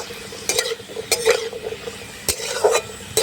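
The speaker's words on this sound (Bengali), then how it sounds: "এবার আমি কাজু কিশমিশটা ভেজে নেব" Cashews and raisins fry in hot ghee with a close, steady sizzle, broken by sharp scrapes and clinks as a spoon stirs the pan in uneven bursts.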